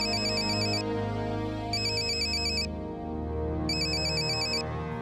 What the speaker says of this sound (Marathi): बॉसचा फोन.